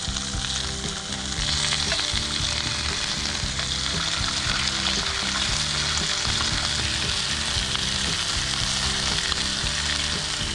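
Pork frying for dinner, a loud steady sizzle with a constant broadband hiss and crackle throughout, underlaid by a faint repeating rhythmic pattern, with no voices.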